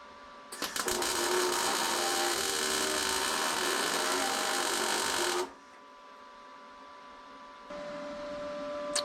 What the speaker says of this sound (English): So now I've just got those spot welds up in there to do.